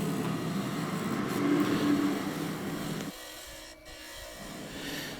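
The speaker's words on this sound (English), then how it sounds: "Gentle cuts, and you're keeping the cut towards the heel of the skew as well." A skew chisel makes gentle cuts on wood spinning on a lathe, a soft continuous rasping hiss under the motor's hum that drops away partway through, heard close and alone.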